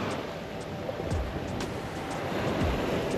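Ocean waves wash steadily onto a beach in St. Croix, a constant broadband surf hiss with soft rolling swells and a little wind buffeting, no voices.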